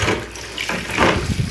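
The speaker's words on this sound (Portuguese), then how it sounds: "Eu meto água em cima." Water poured over a PlayStation 2 console while washing it, a continuous splashing, running pour that swells and surges close by, with no talk.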